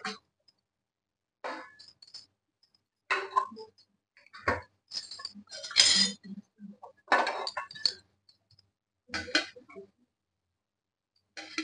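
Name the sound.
opening lid of chicken biryani pot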